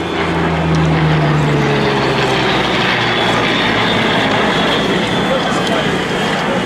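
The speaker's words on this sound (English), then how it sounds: "It's also fun to hear the jet engine on the L-39 and that V12 liquid-cooled Allison engine on the Yak-9" A steady, droning engine roars continuously at close range, with a low throbbing hum and a brief lower tone near the start: a Yak-9 warplane's V12 liquid-cooled Allison piston engine.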